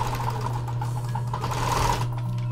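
A sewing machine stitches around a small fabric chili pepper handle cover, a continuous close, steady motor hum with rapid needle clatter throughout.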